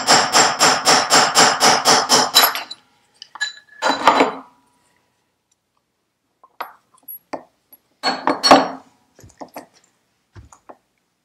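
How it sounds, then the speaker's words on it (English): A rapid run of about ten light metallic taps from a light hammer on a Shovelhead engine pin, then scattered single taps and clinks after pauses, close and crisp with no talking. "Again, just tap it. I'm only hitting it very lightly."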